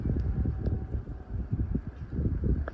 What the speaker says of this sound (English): I presumed these sound shields here would have protected us from some of the wind, but unfortunately not